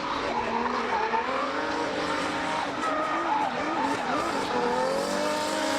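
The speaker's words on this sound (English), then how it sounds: "You heard the throttle change there" A drift car's engine roars steadily during qualifying at Okayama International Circuit, Japan, its pitch rising and falling with throttle changes while tires squeal continuously; loud and close throughout.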